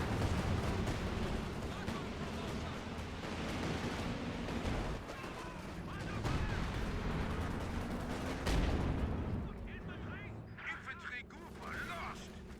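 In a Company of Heroes match, Calliope rocket artillery fire pounds the battlefield as a dense run of rumbling explosions and rapid blasts, with battle noise throughout and a commentator talking over it.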